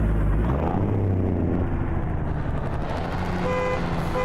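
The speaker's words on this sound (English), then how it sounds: "And I'm setting alarms off." Reversing alarm beeps from a truck in American Truck Simulator, a steady series of evenly spaced tones entering late over a loud low engine rumble, with no talking.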